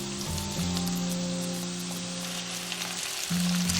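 Pickled mustard stems sizzle steadily as they are stir-fried in oil with scallion, ginger, garlic and pickled wild chilies in a clay pot, a continuous close frying hiss over a steady low hum.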